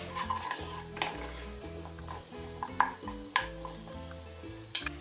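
Cinnamon, nutmeg and cumin are stirred into a pot of Greek beef stifado, with a spoon scraping and clinking against the pot in irregular strokes alongside a low sizzle, close and moderately loud.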